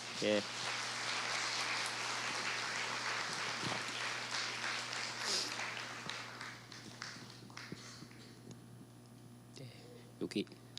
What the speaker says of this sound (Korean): 박수로 저희 환영하겠습니다